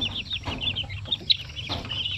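Shamo Aseel chickens and their young chicks cluck and chirp close by on a farm, with short, high, scattered calls and a few sharper peaks.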